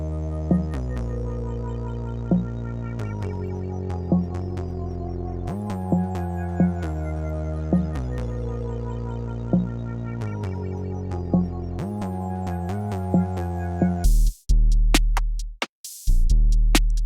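A looping trap drum pattern plays, with punchy kicks from a Spyder Demon kit and regular snare hits over a sustained tonal bed, ending in a short glitchy cutoff.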